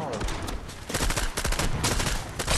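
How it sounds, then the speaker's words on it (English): Rapid SMG gunfire from an online shooter video game, firing in dense bursts that stay loud and close across the clip, with a brief lull near the start. "Oh, this SMG is awesome."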